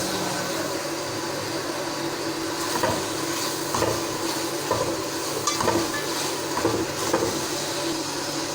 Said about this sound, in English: Now I will mix it till then the tomatoes will turn soft, so I am going to fry it till that time